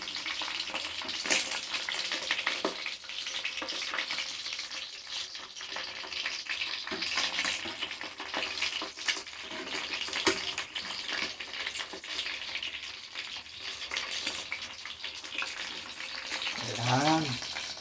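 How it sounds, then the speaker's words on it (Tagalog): Food sizzles and crackles in a hot pan in a home kitchen, a continuous close frying hiss with occasional stirring and brief speech near the end. "Ating pinipiri ito."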